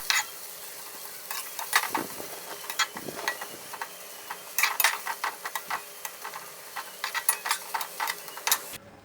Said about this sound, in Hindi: 1 से 2 मिनट के लिए इनको फ्राई करके निकाल लेंगे।